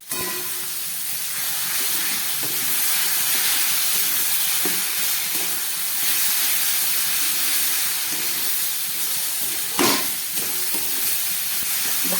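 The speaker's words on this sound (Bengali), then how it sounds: "ভাজা বিউলির ডালের পেস্ট দিয়ে এটাকে খুব ভালো করে আমি কষাচ্ছি।" Fried urad dal paste sizzles steadily in a hot pan while being stirred into cooked ash gourd for a vegetarian curry, with a continuous loud hiss and occasional soft scraping knocks.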